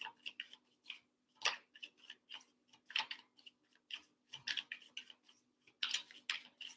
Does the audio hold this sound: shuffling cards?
yes